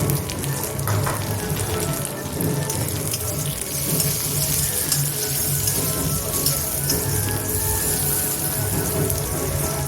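Continuous crackling sizzle of tomatoes frying in a hot pan with onions, steady and unbroken with no talk.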